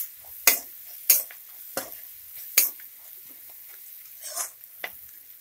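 Asafoetida is stirred into a lemon rice tempering with cooked onions in a pan over low flame: a few sharp scraping strokes of a spoon against the pan, separated by quiet pauses, with only faint sizzling underneath.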